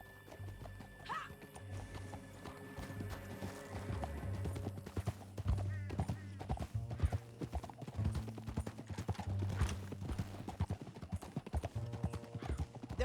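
Hooves clop in a quick, steady galloping rhythm in Red Dead Redemption 2, close and continuous, with a horse whinnying near the start and music in the background.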